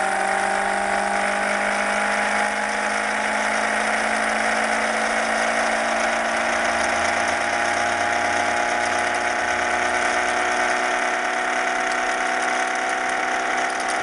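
An Orbo / Ben Thomas style magnet motor is revved at 19 volts in a small home lab, giving a steady, loud mechanical whir with a sustained tonal hum that holds continuously throughout.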